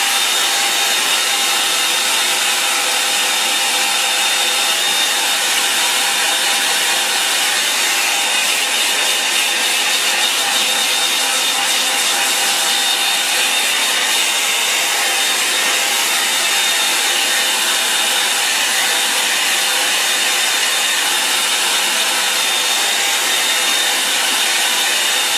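A hair dryer blows steadily and loudly for the whole stretch, a constant whooshing roar drying a freshly painted landscape picture.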